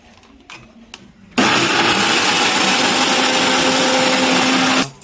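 A blender grinds ginger, garlic, green chillies and dried red chillies into a fine paste for a Bihari-style mutton curry, roaring loudly and steadily for about three and a half seconds after a short quiet lead-in, then cutting off abruptly.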